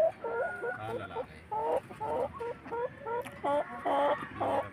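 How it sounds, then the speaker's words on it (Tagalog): Chickens on a farm cluck repeatedly in short rhythmic bursts, with a rooster among the flock, moderately close over faint background noise. "Sa ganitong klase ng manok, ang malimit dito ay lalaki."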